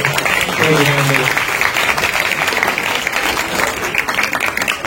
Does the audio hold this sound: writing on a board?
no